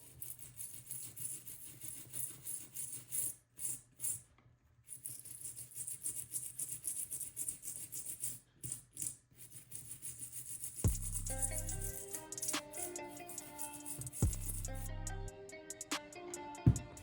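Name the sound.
scrubbing a battery pack with a toothbrush and IPA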